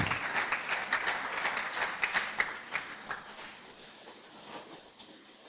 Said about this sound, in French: Nous acclamons la parole du Seigneur